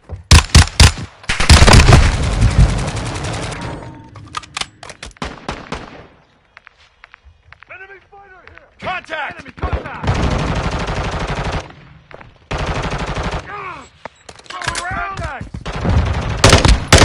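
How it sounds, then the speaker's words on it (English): Loud close bursts of machine-gun fire in a video game firefight crackle in clusters separated by quieter gaps, with sharp single shots and a heavier mortar impact mixed in; no voices are heard. "Hostile mortar strike in the area."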